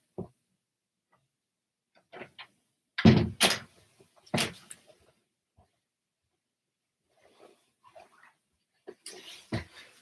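A dog barks indoors in a few short bursts, and a door thuds shut during a home live stream; the sounds come in isolated bursts with quiet gaps and no talk.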